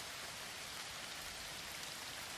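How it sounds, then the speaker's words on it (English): Steady rain falls as a dense, even hiss that holds unchanged throughout, a constant wash of sound with no voices or other noises. "Around you the rain falls, steady, cleansing, like the earth exhaling."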